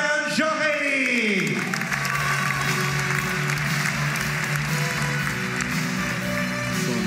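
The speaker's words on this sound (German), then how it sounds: "Ihr Applaus für Levan Shokeli" A crowd applauds loudly and steadily at a combat sports event as a fighter is introduced, dense continuous clapping filling the whole stretch while a voice rings out briefly at the start.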